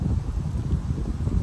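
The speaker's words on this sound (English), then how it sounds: "it's a windy day" Steady wind rumbling and buffeting the microphone, a continuous low roar with no voices.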